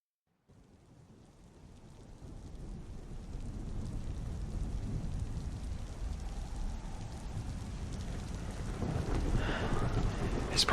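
Rain in the video game The Picture in The House, a steady hiss rising from silence and swelling toward the end, with a low rumble and wind noise under it.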